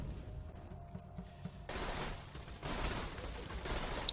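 Gunfire in Borderlands 2 erupts after a quiet opening, then continues as a dense rattle of rapid shots with slightly shifting intensity.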